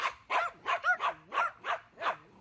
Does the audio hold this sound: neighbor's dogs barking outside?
yes